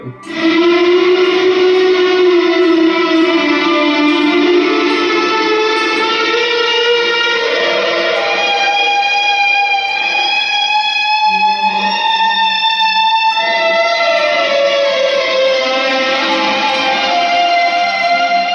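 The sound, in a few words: guitar reverb pedal with fuzz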